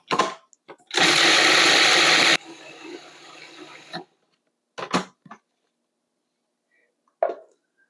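A food processor grinds almonds into flour in a loud, dense whir lasting over a second, then a quieter spinning stretch, followed by a few scattered clatters and knocks.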